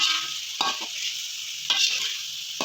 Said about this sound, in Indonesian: Kita oseng ya seperti ini teman-teman ya. Ini kita oseng-oseng.